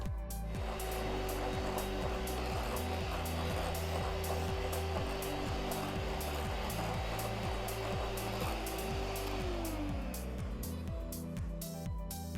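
An electric mixer whips mascarpone cream at full speed, a steady close whirring drone with a rhythmic beating pulse and a tone that drops near the end, with no voices.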